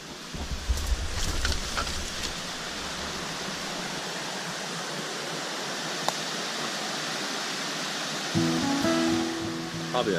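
Water in Wilson Creek rushes in a steady, even hiss, fairly close and continuous, with a faint thump near the start and a voice briefly at the end.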